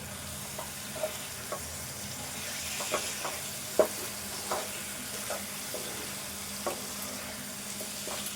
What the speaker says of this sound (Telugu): ఇదంతా కొద్దిసేపు మంచిగా ఫ్రై కావాలి.